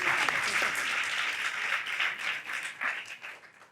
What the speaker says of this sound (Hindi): अंकल जी के लिए तालियां बजाएं।